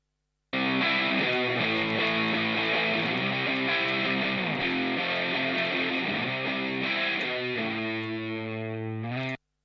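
Distorted electric guitars through the Sound City Studios amp simulator plugin play a steady, thick chord progression with a chorus-like shimmer, loud and continuous, ending in a sustained chord.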